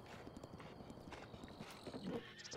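A horse's hooves clip-clop in a quick, even rhythm while ridden in the video game Breath of the Wild, quiet and slightly distant over a soft game background.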